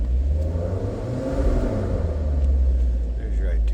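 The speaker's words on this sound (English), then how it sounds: "There's your Italian exhaust note." The exhaust of a 2016 Maserati GranTurismo Sport Convertible rumbles close by, with a deep, throaty drone swelling into a brief rev and settling again.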